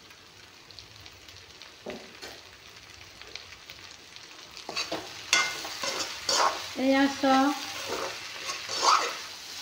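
Chicken frying with garam masala in a pan, a steady sizzle with stirring scrapes that grow louder toward the end, while a voice speaks briefly over it.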